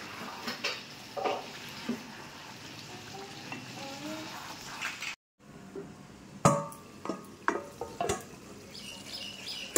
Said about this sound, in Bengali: টমেটোগুলো দিয়ে দিলাম, এখন এই জলেই কষে নেবো ভালো করে